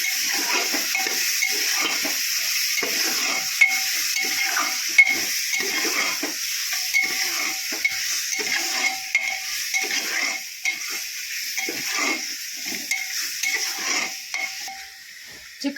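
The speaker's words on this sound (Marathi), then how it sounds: "आता कांदा टोमॅटो मध्ये हे चिकन घालू आणि चांगलं परतून घेऊ" Chicken stir-fried with onion and tomato in a pan, a continuous close sizzle with a steady rhythm of spatula scrapes and taps against the metal throughout.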